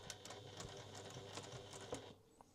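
A sewing machine back stitches the seam of a quilt, a close, steady mechanical whirring chatter that runs for about two seconds and then stops, followed by a faint click.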